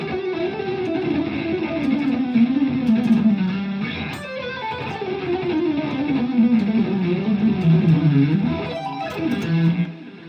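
Distorted electric guitar played with a muted legato technique, a continuous stream of fast, fluid, compressed notes with a steady gritty tone holding at an even level throughout.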